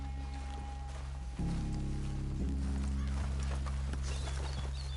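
Several horses clip-clop steadily on the ground close by, hooves and harness noise growing heavier partway through, with low murmuring voices and no clear whinny.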